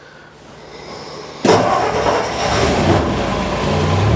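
A 1963 Ford F100 truck engine, warmed up, catches and settles into a steady close-up running roar after a quieter lead-in, the sound jumping abruptly louder partway through and holding.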